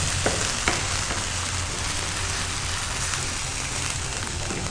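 Ginger garlic paste fries in hot oil with a steady, dense sizzle, close and continuous, with a couple of faint clicks early on.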